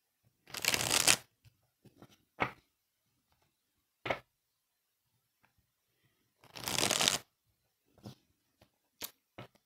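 A deck of cards being shuffled in two loud riffle bursts, with scattered taps and card handling sounds between them, close and clear with no talk.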